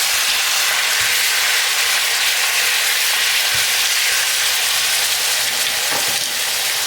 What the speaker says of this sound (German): die müssen wir jetzt so lange anbraten, bis sie braun ist oder keine Flüssigkeit mehr da ist